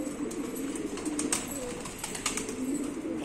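Pet pigeons coo steadily at close range, low throaty repeated calls overlapping in a continuous murmur, with occasional higher chirps from other birds.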